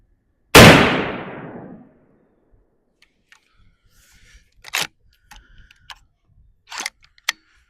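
A single loud, close rifle shot from a Henry Long Ranger in .308, fired at a 100-yard range, with a sharp crack and a decaying tail, followed by faint clicks and handling noises.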